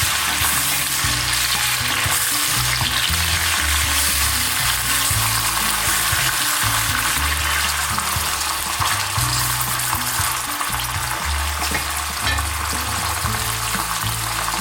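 Spices and ginger garlic paste fry and are stirred in a pan for lamb samosa filling, producing a loud, continuous close-up sizzle with spoon scraping throughout.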